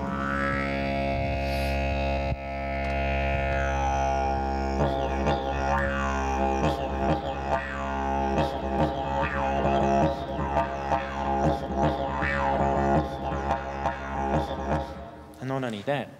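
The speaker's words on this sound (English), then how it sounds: "And this one is just a didgeridoo that took my fancy because it has a great sound." A didgeridoo drones with a deep, steady tone and shifting overtones, played continuously and loudly for about fifteen seconds before stopping abruptly near the end.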